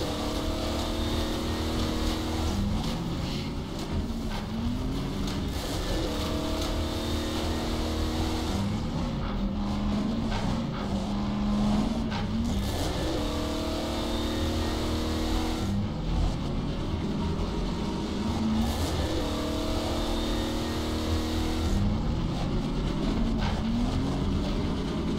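A vehicle engine in Half-Life 2: Episode Two drones loudly and continuously, revving and shifting pitch in repeated surges as it accelerates, with no talk.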